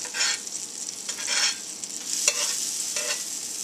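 Vegetarian kielbasa slices frying and being stirred around in butter in a pan, a soft continuous sizzle with intermittent scraping bursts from the utensil, close up and with no voices.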